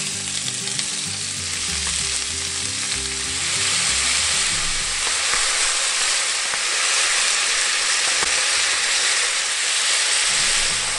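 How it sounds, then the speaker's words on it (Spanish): Beef searing in hot oil over high heat, a loud, dense, continuous sizzle that swells a little partway through and holds steady, with faint pan clatter early on and no voices. "En aceite caliente comenzamos por freír la carne."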